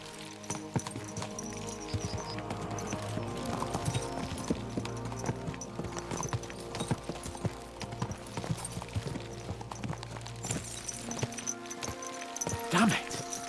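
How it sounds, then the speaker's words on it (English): Horses' hooves clip-clop steadily on the road in Kingdom Come: Deliverance 2, a continuous close rhythm of hoofbeats under ambient game sound with a brief louder moment near the end. "Let's really spur these horses on, eh?"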